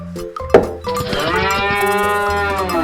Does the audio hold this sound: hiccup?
no